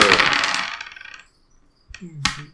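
Dice rattle and clatter onto a table in a Deadlands tabletop game, a short burst of tumbling clicks, a pause, then a second brief sharp clack nearby.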